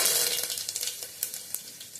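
Mustard seeds and curry leaves crackling in hot oil in a home kitchen, a bright busy sizzle that fades a little, with sharp irregular pops scattered throughout.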